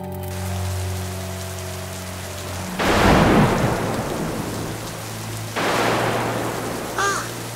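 Steady rain with two loud, rolling thunderclaps, the first near and heavy, the second a little lighter, with no talk over them.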